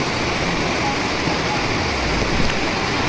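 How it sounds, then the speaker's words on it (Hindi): A waterfall on the Shrikhand Mahadev Kailash Yatra trek, crossed at night, gives a steady, loud rushing roar of falling water that stays constant and close throughout. "रात में वाटरफॉल क्रॉस कर रहे हैं,"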